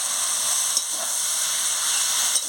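Mustard paste hits a hot pan in a vegetable curry cooked with potatoes, giving a loud, steady, hissing sizzle that runs unbroken and close throughout.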